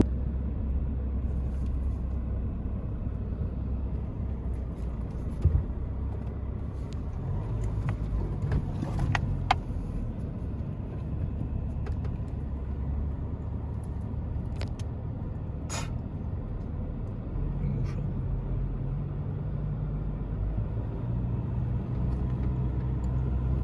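A Toyota off-road vehicle's engine rumbles low and steady up close while descending a Sahara sand dune, with a few brief clunks and rattles over the continuous drone.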